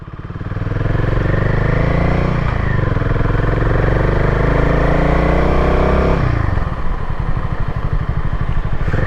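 A motorcycle on a ride toward Pauri Garhwal, its engine loud and close with a steady throbbing note that shifts pitch as it accelerates, continuous for the whole stretch.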